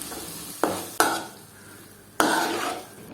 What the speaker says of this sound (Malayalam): ഇനി ഇതെല്ലാം കൂടി നമുക്ക് നന്നായിട്ടൊന്ന് മിക്സ് ചെയ്ത് കൊടുക്കണം.